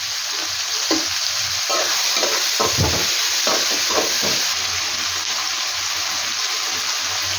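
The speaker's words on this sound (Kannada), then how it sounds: "ಹಾಕೋದ್ರಿಂದ ಟೊಮೆಟೊ ಮತ್ತು ಈರುಳ್ಳಿ ಬೇಗನೆ ಚೆನ್ನಾಗಿ ಫ್ರೈ ಆಗುತ್ತೆ" Chopped onion and tomato fry for a chicken gravy in a steady, loud sizzle, with a spoon scraping and stirring through the pan now and then.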